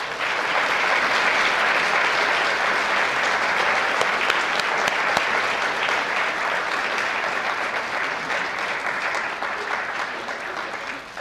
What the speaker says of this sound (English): One more applause for Cheryl, please.